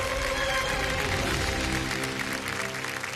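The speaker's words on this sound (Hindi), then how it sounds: "जोरदार तालियां मच जाए इनके लिए।" Studio audience on the Kaun Banega Crorepati game show gives loud, sustained applause that fills the room throughout, thinning slightly toward the end.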